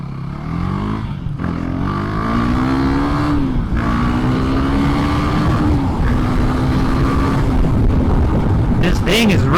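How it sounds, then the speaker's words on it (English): Husqvarna Svartpilen 401 motorcycle with an Akrapovic slip-on exhaust revs close by, engine pitch swelling and dropping in repeated blips over a rumbling idle. "So I have a Akropovic slip-on exhaust on this bike that came with it."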